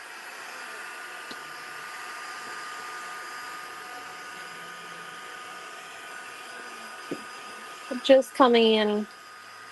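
Hair dryer blowing on a mixed media artwork, a steady airy whoosh with a faint tonal whine, and a voice speaking briefly over it near the end.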